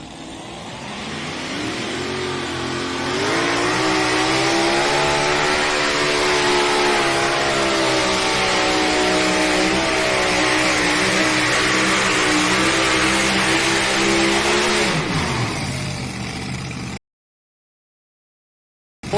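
A pulling tractor's engine screams at full throttle at a Thunder in the Valley tractor pull in Rock Valley, Iowa. It is loud and sustained, its pitch climbing and holding for about fifteen seconds before it cuts off abruptly.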